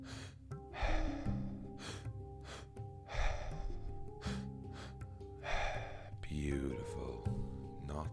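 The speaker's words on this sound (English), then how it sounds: "Let's shift from nasal breathing to mouth breathing." Slow, deliberate mouth breaths, each an open-mouthed inhale followed by a longer exhale, repeated several times at close range during a guided breathing session, with soft background music underneath.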